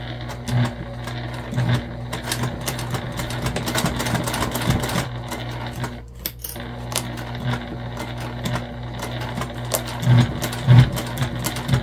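A sewing machine stitches steadily along a seam allowance on a small sewing-pattern project, its close, even motor hum and needle clatter running continuously with brief dips and a momentary pause midway.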